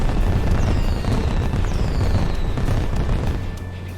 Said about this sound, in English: So check out these fireworks,